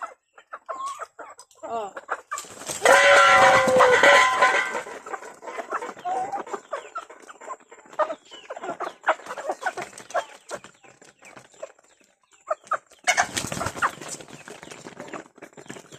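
A rooster clucks and calls close by in bursts, with a loud squawking outburst early on and another near the end, while a person briefly speaks.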